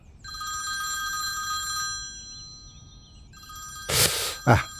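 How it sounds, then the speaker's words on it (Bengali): A landline telephone on a stair landing rings with a shrill electronic trill, two long bursts separated by a pause, followed by a couple of sharp thumps. "ল্যান্ডিংয়ে আবার ফোনটা বাজছে"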